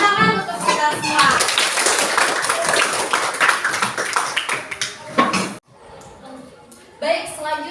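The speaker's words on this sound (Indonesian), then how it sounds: "Tepuk tangan untuk kita semua" A classroom group claps hands together in a burst of dense clapping that runs several seconds, stops abruptly, then picks up briefly again, with voices mixed in.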